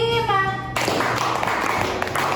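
A classroom group claps together on command in a clap game, a burst of many hands after a brief tonal sound, with children's voices faint underneath.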